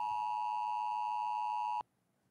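Emergency alert tone on a mobile phone, a loud steady beep held for nearly two seconds, a short silence, then the tone starting again.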